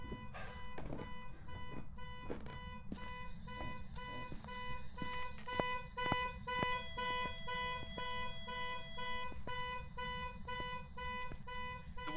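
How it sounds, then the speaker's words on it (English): A car alarm blares in the Phasmophobia horror video game, a repeating electronic tone pattern cycling on and off over a dense game backdrop with scattered thumps, moderately loud and continuous across the span. "Car alarm's going off."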